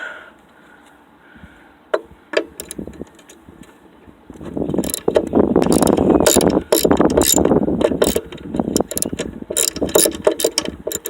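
A ratchet loosens the oil drain plug on a small engine, starting with a few sparse clicks, then settling into a loud, dense run of rapid ratcheting and clattering metal close by.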